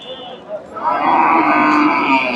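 A Friesian cow at a cattle market lets out a long, loud moo nearby, rising after a brief lead-in, with faint crowd murmur in the background.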